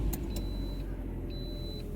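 A car engine idles steadily with engine flush added to the hot oil, a continuous low hum close by with faint brief clicks and a thin whine, and no talking.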